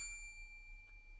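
A single bright bell ding rings out at the start and fades slowly, clear and alone against a faint low hum.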